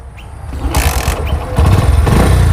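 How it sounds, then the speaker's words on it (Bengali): A motorcycle is kick-started, with a few rough mechanical bursts as the engine catches, then louder throbbing idle revving up close. "বাইক স্টার্ট হয়ে গেছে"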